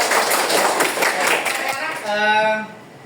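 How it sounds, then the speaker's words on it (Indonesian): Students in a classroom break into a short round of hand clapping, a dense spatter of claps that fades as a voice begins speaking over the end. "Oke, tepuk tangan."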